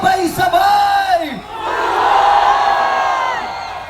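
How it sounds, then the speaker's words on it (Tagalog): A large protest crowd at Liwasang Bonifacio in Manila roars and shouts together, a loud sustained mass of voices that swells, dips briefly, then rises again into a long unified cheer. "ang Liwasang Bonifacio sumisigaw sabay-sabay!"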